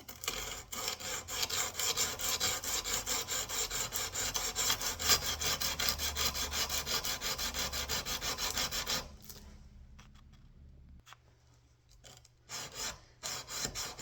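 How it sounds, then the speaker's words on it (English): Steady rhythmic rasping of sandpaper dry-sanding wood by hand, loud and continuous, then stopping into near silence with a few short scrapes afterward. "and then we continue sanding dry."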